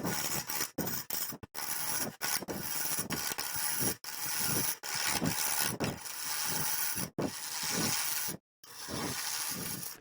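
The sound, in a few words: wood lathe turning a dry cherry wood bowl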